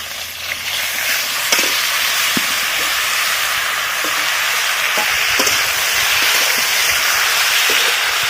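Chopped vegetables frying in oil in a village-style kitchen, a steady broad sizzle and hiss running throughout with occasional faint clinks, close and fairly loud, no talking.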